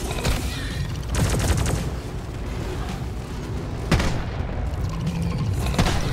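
Bursts of turret gunfire in the sci-fi mining game Deep Rock Galactic, loud, dense, rapid booming volleys that keep rolling under the action with heavy low-end thumps and sharp cracks.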